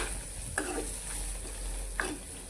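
Onion frying in a pan over a high flame for kanda poha, a soft continuous sizzle with a couple of brief stirring scrapes, close and fairly quiet, no voices.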